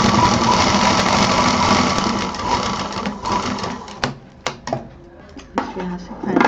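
Sewing machine stitching a fabric hot pot pad, a steady close whirring run for about four seconds that stops, followed by a few separate clunks and handling knocks.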